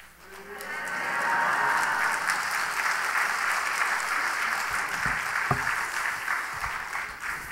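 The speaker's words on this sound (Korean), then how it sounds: "그리고 뜨겁게 박수하십시다." A church congregation applauds warmly during a Sunday service, sustained dense clapping that swells up quickly and holds steady, with a faint murmur of voices beneath.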